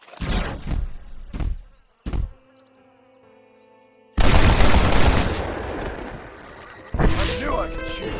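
Gunshots in Red Dead Redemption: a few sharp, loud cracks early on, a pause, then a long burst of roaring gunfire and echoing noise, with voices and game sound around them.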